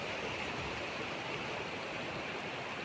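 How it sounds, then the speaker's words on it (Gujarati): Glacial meltwater streams from a white glacier on a high Himalayan trekking route in Uttarkashi. The water makes a steady, unbroken rushing roar that fills the whole stretch with no other sounds. "સફેદ સફેદ ગ્લેશિયર તેમાંથી નીકળતું પાણી"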